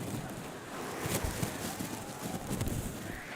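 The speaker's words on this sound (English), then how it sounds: "The wind is really beginning to gust." Strong gusting wind at an outdoor high school baseball game batters the microphone with a steady, rumbling roar that swells into louder buffets, with no clear voices.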